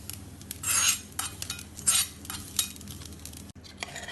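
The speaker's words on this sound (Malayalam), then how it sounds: "ഇത് ഇളക്കി മിക്സ് ചെയ്യാം." Stirring curry in a pot for a brinjal rasavangi, with a metal spoon scraping and clinking against the pan in a few irregular bursts, fairly close and with no talking.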